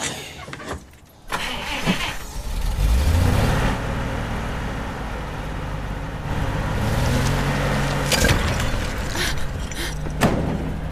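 A truck engine runs steadily and loudly for most of the scene, rising in pitch as it revs after a brief lull near the start, with clanks and knocks over the constant rumble, set amid an earthquake rescue.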